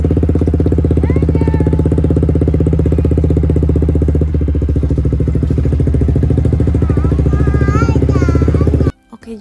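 A motorcycle engine runs loudly and close with a steady rough idle-like throb before pulling off, its tone shifting as it accelerates, then cutting out abruptly near the end.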